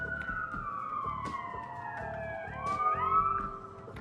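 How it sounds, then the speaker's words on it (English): Emergency vehicle sirens wailing outside at a distance, several overlapping tones sweeping down and then up, faint against quiet background traffic. "every time we talk the sirens go."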